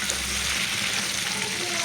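Hilsa fish fries lightly in hot oil with a close, steady crackling sizzle, and a stirring scrape is heard briefly.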